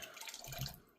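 Water running briefly from a tap onto a brush, a soft close splashing trickle that swells for about a second, with no talking.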